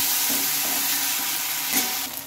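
Ground spice paste stirred into fried onions in a pan for a potato and egg curry: a dense, steady hissing sizzle with a few soft stirring scrapes, close and loud, easing off at the end.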